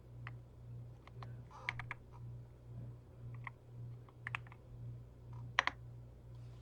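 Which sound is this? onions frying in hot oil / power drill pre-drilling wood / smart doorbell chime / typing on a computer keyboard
typing on a computer keyboard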